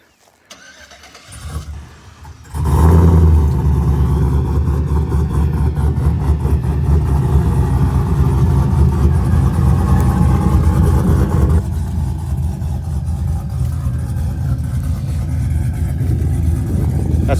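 A cammed 2008 Chevrolet Silverado with a Magnaflow exhaust and headers cranks and fires up, then settles into a loud, lumpy, choppy idle close by, with no talking.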